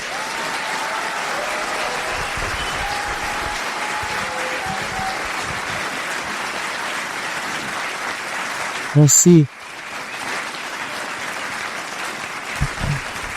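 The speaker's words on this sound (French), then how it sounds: "J'aimerais ça qu'on donne une bonne main d'applaudissement à Jay," A studio audience applauds two guests, Jay and Phil, on a talk show, steady clapping throughout, with a voice speaking briefly and a sharp bump partway through.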